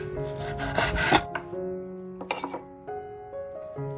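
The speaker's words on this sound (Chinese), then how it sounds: "再来把一块肥多瘦少的五花肉切成片" A kitchen knife slices through fatty pork belly on a cutting board, making two rasping, scraping strokes near the start and middle, heard close over soft background music.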